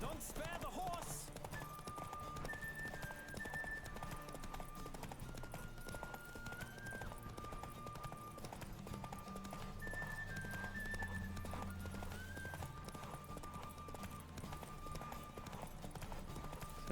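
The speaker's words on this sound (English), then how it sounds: "Don't spare the horse." Hooves of the horse Roach pound in a steady, rapid gallop in The Witcher 3, heard up close and continuous over music and game sounds, with occasional voices talking.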